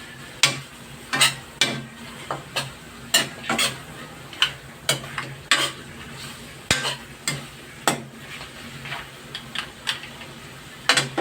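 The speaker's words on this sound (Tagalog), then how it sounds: "Saka yung curry powder. Halo-haloy lang natin to" Chicken curry with curry powder is stirred in a pan, giving a steady rhythm of close scraping and clicking utensil strokes over a soft sizzle, with no one speaking.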